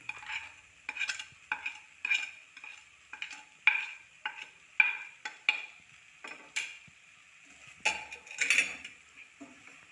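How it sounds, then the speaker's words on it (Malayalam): Spoon stirring salt into a lemon and dates pickle: repeated scraping, clinking strokes against the pot in an uneven rhythm, close and fairly quiet, with no voices. "ഉപ്പിട്ട് നന്നായിട്ട് ഒന്ന് യോജിപ്പിച്ചെടുക്കണം."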